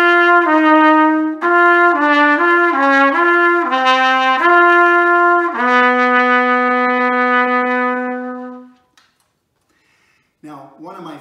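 Trumpet playing a run of clear, bright sustained notes that step up and down as the valves are pressed, loud and close, ending on a long held tone before a brief silence.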